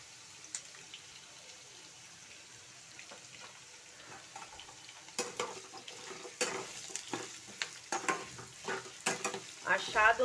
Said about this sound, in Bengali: আমি মূলো আলুটাকে ভেজে নিচ্ছি আগে